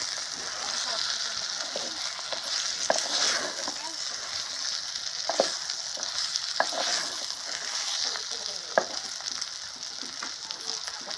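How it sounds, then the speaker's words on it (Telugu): Ridge gourd pieces sizzling in a hot pan while being stirred, a steady bright frying hiss with occasional sharp clicks of the spoon against the pan. "బీరకాయ ముక్కలు వేద్దామండి. మొత్తం అంతా ఇలా కలుపుకుందాం."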